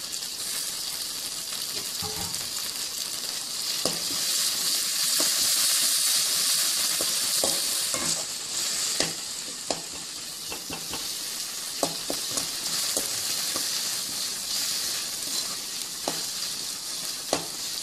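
Tomatoes and ginger fry and are stirred in a pan for a brinjal (eggplant) fry, giving a loud, steady sizzle with scraping spoon strokes and clatters, and no talking.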